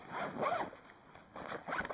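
Zipper being pulled open on a Lidl Crivit cooler backpack, two quick raspy zipping strokes close up, then a brief pause and another short burst.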